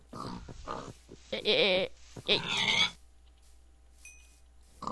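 Pigs oink and grunt in the Minecraft Ars Magica mod, with several loud squealing grunts close by in quick succession, then quiet, while someone talks over the start.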